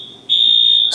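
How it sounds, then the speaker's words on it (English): A building's fire alarm sounds a steady, piercing electronic tone, quieter at first and then jumping to a loud, sustained beep that holds to the end with no voices. "building fire alarm likes to do that sometimes"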